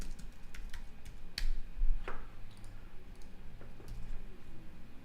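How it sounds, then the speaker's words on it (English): Typing on a computer keyboard, with scattered light key clicks and taps in uneven bursts over a low steady background hum. "I'll type it in chat actually."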